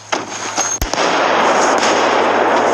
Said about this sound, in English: Wait for the bang. Grenade.